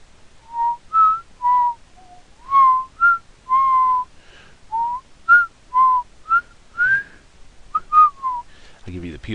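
A person whistles a cheerful, bouncy tune, short bright notes hopping up and down in a quick melody, close and clear with no talking.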